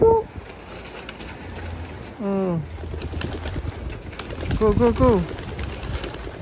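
Racing pigeons coo in a loft, with several soft, close, warbling coos that rise and fall in short bursts against steady background noise. A man briefly calls out.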